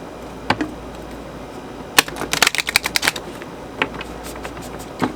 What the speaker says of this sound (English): I should probably just do one shuffle here.